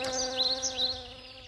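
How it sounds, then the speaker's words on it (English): A sound effect of bees buzzing plays in a children's read-aloud story, a close, steady, droning hum that wavers in pitch for a second and a half. "You're buzzing too loud," she told the bees."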